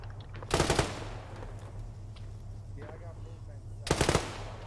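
An A-10 gun run in the ArmA 3 video game sounds as two short, loud bursts of rapid automatic cannon fire a few seconds apart, with quieter ambient battlefield noise in between.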